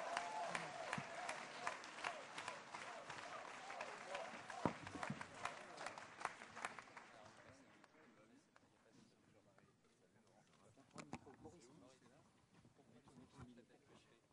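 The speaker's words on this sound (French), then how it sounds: "Merci de l'applaudir très fort" Loud crowd applause at a French political meeting in Clermont-Ferrand greeting Maurice Leroy, dense clapping that thins out midway into scattered claps and room noise.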